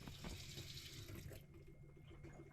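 Water from a pump-fed tap runs steadily into the sink of a converted Ford Transit Custom van, a close, continuous rushing stream that thins out about halfway through.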